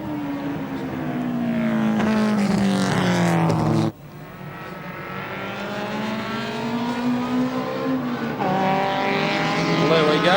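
Race cars revving and accelerating away together after a pace-car period in a circuit race, a loud sustained engine roar with rising pitch, one gear-change dip, then building again; someone speaks briefly over it.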